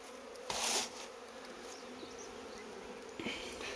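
Honey bees swarm over a polystyrene nucleus hive, a constant close buzzing hum that swells briefly in a couple of louder bursts and carries on alone without voices.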